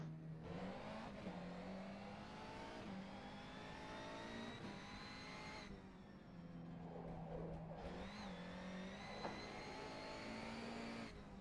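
A Mercedes GT3 race car engine in the rFactor 2 racing game revs and whines steadily through the gears, with pitch rising and dropping repeatedly over about eleven seconds, heard alone without talk.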